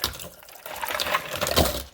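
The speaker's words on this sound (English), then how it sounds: "Then add 4 cups of water" Water pours steadily into a container, a continuous splashing rush that grows slightly louder toward the end.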